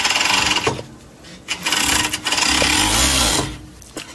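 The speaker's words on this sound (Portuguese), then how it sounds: "Quase que eu costuro o alfinete junto. Nossa, que venho costurando tranquilo." A sewing machine stitches fabric in short bursts of rapid mechanical whirring, separated by brief pauses, heard close and fairly loud.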